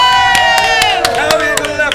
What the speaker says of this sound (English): They would scream, shout and cheer.